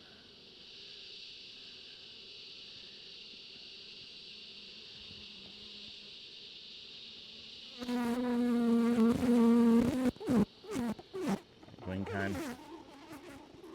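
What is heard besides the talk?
honey bees buzzing in an open hive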